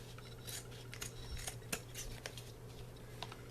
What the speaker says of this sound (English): these are my lovely scissors